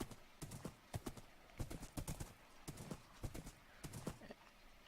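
Horse hooves clop in quick irregular clusters while riding through Minecraft terrain, quiet and steady over a faint background.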